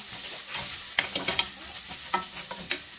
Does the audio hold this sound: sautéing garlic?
yes